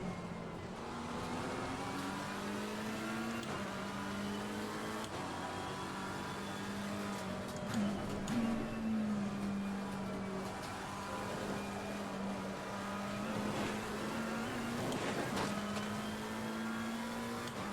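A Porsche race car engine in Assetto Corsa Competizione at Brands Hatch drones steadily and continuously, its note swelling slightly a couple of times, with no talking.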